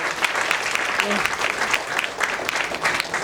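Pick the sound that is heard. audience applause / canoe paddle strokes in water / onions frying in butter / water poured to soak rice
audience applause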